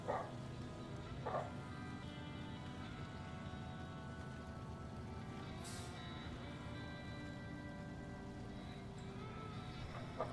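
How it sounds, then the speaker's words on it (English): A dog outside barks twice near the start, somewhat distant and muffled, over a steady droning engine rumble from a truck-driving video game. "he is still just barking up a storm. Somebody must be walking outside with a dog."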